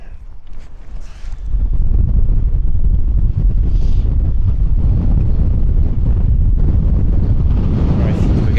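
Strong wind buffets the microphone on an exposed Scottish mountainside near Sgùrr Alastair, a loud continuous roar that surges up after the first second and holds steady throughout.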